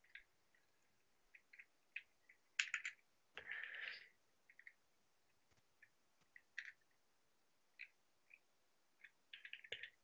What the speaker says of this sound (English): We'll just type it all out.